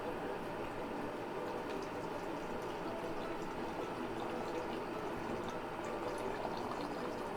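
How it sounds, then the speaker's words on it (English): Water, 200 ml, poured into a bottle for a DIY baking soda and citric acid CO2 system, a steady broadband splashing trickle running evenly throughout at moderate level with no talk. "So I'll be pouring the water now in."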